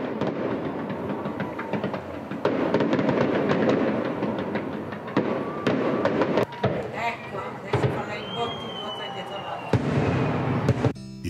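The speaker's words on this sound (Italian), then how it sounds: "prima dei fuochi d'artificio per la festa dell'indipendenza." Fireworks for an Independence Day celebration in Madagascar, sharp bangs and crackling bursts over a dense, noisy crowd, with one rising whistle partway through and people talking throughout.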